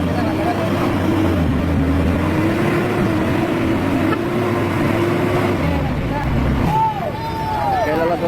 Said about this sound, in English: The roar of the engines echoed in the quiet space.